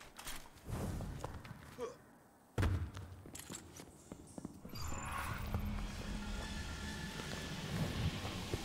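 A Destiny 2 elevator starts with a sharp thud, then a steady low rumbling hum carries on as it moves.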